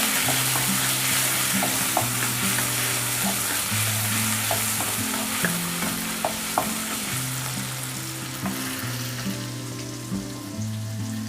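Ginger and garlic sizzle steadily as they roast in hot oil in a Kerala masala rice pan, a continuous near frying hiss with occasional light pops and spatula scrapes, no voices.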